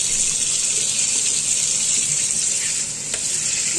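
Raw chicken being rinsed clean under a running kitchen tap, a loud continuous close splash and gush of water into the sink with a brief shift near the end, no talking.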